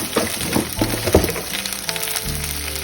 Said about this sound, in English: We should not burn the okra, but we need to fry them well in the coconut oil.